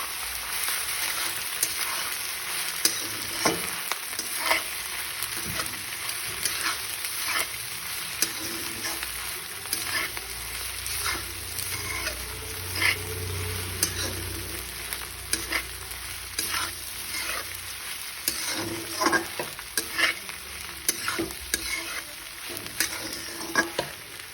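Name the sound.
stirring food frying in a wok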